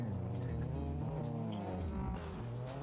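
Handbrake drift in the Assetto Corsa racing game: a loud, steady engine roar with shifting revs and brief tyre squeal, continuous throughout.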